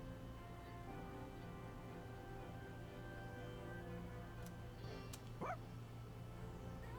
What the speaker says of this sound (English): Oh, he did it! What a smart dog!